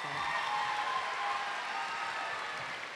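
Audience clapping at a university convocation ceremony at UNC-Chapel Hill, a broad, steady wash of applause from a large crowd in a big hall, sustained and even with no voices on top.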